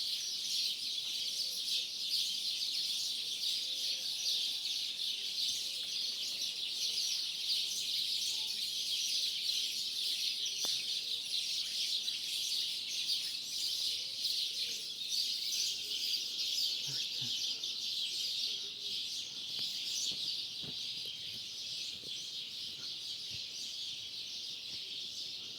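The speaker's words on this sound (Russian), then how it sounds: "Петухи, с ума сходят какие-то птицы." A dense, faint chorus of birds chirping and calling at sunrise on a misty morning in Sicily, with roosters among them, continuous and distant for the whole stretch.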